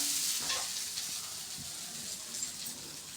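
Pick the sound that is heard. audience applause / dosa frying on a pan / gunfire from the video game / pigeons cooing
dosa frying on a pan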